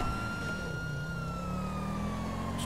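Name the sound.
police car siren in video game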